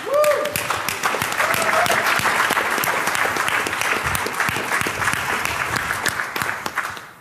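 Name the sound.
audience applause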